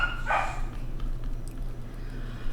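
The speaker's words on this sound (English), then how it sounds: "little puppy in the background" A puppy gives one short bark in the background of a quiet room.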